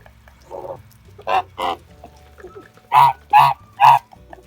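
Kholmogory geese honk nearby: a few softer calls, then three loud, evenly spaced honks in quick succession.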